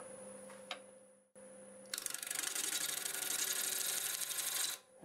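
Steady whirring hum of a wood lathe spinning a lightning-struck pear wood blank at about 720 RPM, with a short pause before a broad, continuous rushing drone that runs for several seconds and then cuts off.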